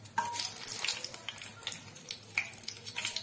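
Steady crackling sizzle of green chilies frying in hot oil with fenugreek seeds, with small pops and bursts scattered throughout, close up and moderately loud.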